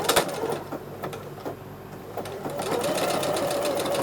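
A sewing machine darns neck patches using free hand motion quilting, starting and stopping in short runs before settling into a steady, close mechanical whir.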